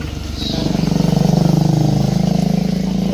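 A motorcycle with an open exhaust pipe idles and revs close by, its loud, rapid pulsing burble steady throughout and rising slightly in the middle, on a rainy day.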